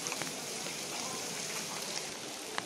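Heavy rain pours down steadily at an outdoor NCC cadet training camp in Deoria, a dense, even hiss that fills the whole clip with no voices.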